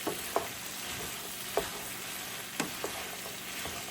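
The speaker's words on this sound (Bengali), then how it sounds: "আমি এটাকে ভালোভাবে নাড়াবো" Chickpeas frying in Buldak and tomato sauce with a soft continuous sizzle, as a utensil stirs and knocks against the pan every second or so, close up and without talk.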